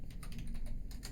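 Rapid typing on a computer keyboard, a dense run of close, crisp key clicks at a steady pace with no speech.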